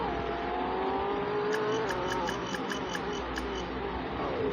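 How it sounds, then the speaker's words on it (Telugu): Audi car engine in a racing video game, a steady loud synthetic drone with gliding pitch as it revs and shifts, with faint rhythmic beeps in the middle, no talk. "ఆడి కార్ లాగే సౌండ్ వచ్చింది"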